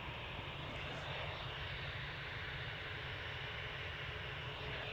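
An easyJet airliner departing Manchester Airport for Rome produces a continuous, fairly faint jet roar, distant and even throughout, with no voices.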